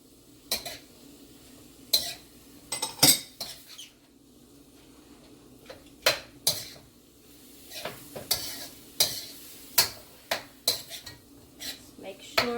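A utensil clinks and scrapes against a bowl while crab meat is stirred together with powdered seasoning, making irregular close taps and short scraping strokes in an otherwise quiet room.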